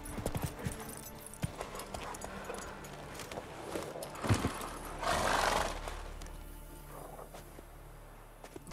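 A horse clip-clops and whinnies in The Witcher 3: Wild Hunt, with hoof steps and snorts up close and a louder neigh midway over a low game ambience.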